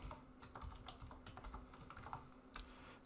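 A password is typed on a computer keyboard, giving a quick irregular run of soft, close key clicks over about three seconds.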